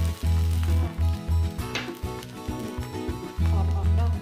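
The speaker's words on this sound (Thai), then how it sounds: "แม้ข้าวจะแฉะก็ผัดดีนะคะกระทะใบนี้" Rice is stir-fried in a pan for a Thai mixed-vegetable fried rice with sweet pork, giving loud sizzling bursts broken by rhythmic scraping and tossing strokes, close and continuous.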